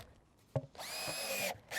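A power drill with a large bit boring drainage holes in a 5-gallon plastic bucket: a short knock, then a sustained whining drill run of under a second, close and clear, with no talking.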